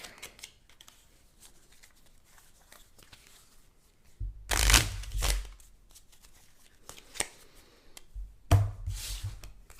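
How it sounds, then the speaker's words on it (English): Close, crisp bursts of a deck of Onirim game cards being shuffled, two riffling flurries separated by quieter handling sounds. "Shuffle these back into the deck."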